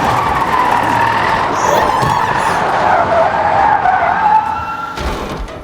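A car skids on a forest road just before hitting something, a loud, sustained tire screech with engine noise lasting several seconds before cutting off abruptly.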